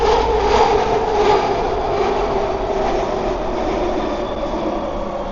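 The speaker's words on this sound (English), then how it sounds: "SkyTrain right there." A Vancouver SkyTrain rolls past with a loud, steady rumble and faint rail whine, sustained and fairly close throughout with no talking.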